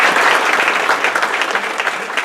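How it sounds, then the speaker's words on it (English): A community meeting audience breaks into loud, close, continuous clapping that holds steady throughout, with faint voices mixed in. "Please give her a round of applause."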